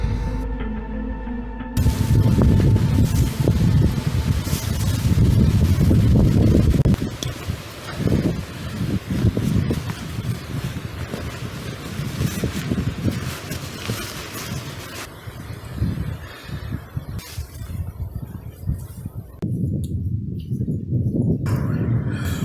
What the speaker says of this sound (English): The wind is howling something rotten.